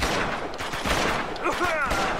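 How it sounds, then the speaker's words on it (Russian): Gunfire in a battle scene of the video game Uncharted 2: Among Thieves, with dense loud bursts and shots over continuous game noise, and a voice speaking briefly among the shots. "Отличный выстрел."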